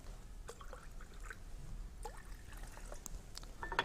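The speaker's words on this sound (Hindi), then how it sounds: "पानी मैंने पूरा डाल दिया है लगभग।" Water poured into a pot during a children's magic trick, a soft uneven trickle with small splashes and drips, quiet and close, with no talking over it.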